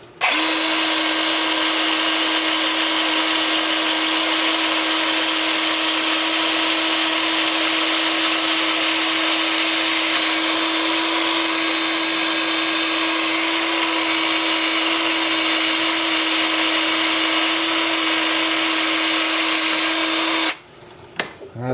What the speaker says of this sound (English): with the lathe spinning forward at about 350